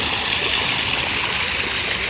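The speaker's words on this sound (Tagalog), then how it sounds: "May pa-falls din dito." A small waterfall feature at the Splendido Tagaytay Hotel & Country Club pool pours in a steady, loud, unbroken rush of falling water, with no voices.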